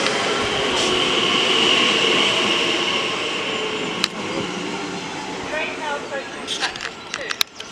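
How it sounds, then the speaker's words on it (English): A TFL Rail class 345 electric train pulls into Ealing Broadway, its hum and whine rising and fading with faint wheel squeals. Sharp clicks follow near the end, and a voice talks over it. "it's going to be a TFL Rail 345 heading to Hayes and Harlington."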